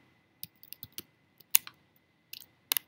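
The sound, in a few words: typing commands on computer keyboard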